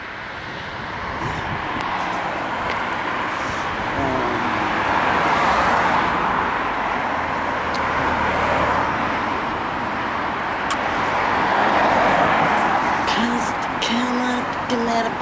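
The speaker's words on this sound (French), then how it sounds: "il y a plein de voitures, c'est pas facile à traverser" Busy road traffic streams past on a street in Brunoy, with repeated swells of car noise rising and fading over a steady background roar, some passes nearer and louder than others.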